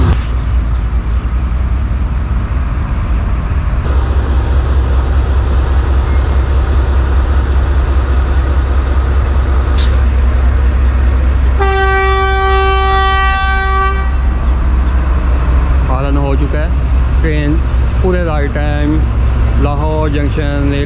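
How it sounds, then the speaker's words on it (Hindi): A ZU30 diesel locomotive hauls the Badar Express into a Lahore junction platform and sounds a loud, steady horn blast of about two seconds amid rumbling station noise and background voices, followed by squealing rail sounds. "ये आ गई आज की पावर 112 डाउन बदर एक्सप्रेस की पावर ZU30-6302"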